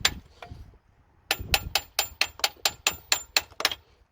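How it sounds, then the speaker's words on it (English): A couple of taps, a pause, then a rapid run of about eleven sharp, ringing hammer strikes on metal, evenly spaced and close, during water pump work on a diesel P38 Range Rover. "So I'll give this a tap with the hammer."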